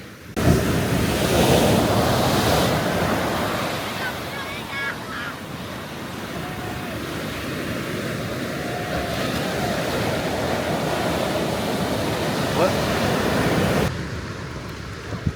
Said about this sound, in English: I'll show you the waves just now, they're so big